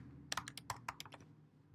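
An email and password being typed on a computer keyboard, heard as a quick burst of about a dozen close, quiet key clicks in an uneven rhythm. The clicks trail off after about a second, with no talking.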